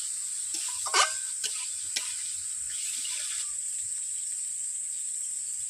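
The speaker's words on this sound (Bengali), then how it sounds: "আলুগুলোকে এইভাবে নেড়ে নেব 2 থেকে 3 মিনিট।" Potatoes sizzle in a frying pan with a steady high hiss, while a spoon stirs them with a few scraping knocks near the start.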